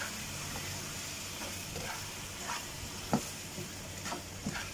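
Vegetables with shrimp simmer in coconut milk in a pan, a steady soft bubbling sizzle with a few faint scrapes and clinks of stirring, quiet and close.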